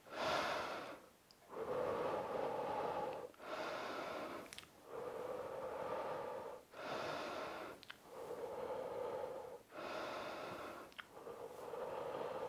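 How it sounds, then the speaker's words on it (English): Heavy, steady breathing during a rest break in a home fat-loss workout, long loud breaths in a regular rhythm of roughly six cycles, close and alone with no talk. "Let's get back into breathing."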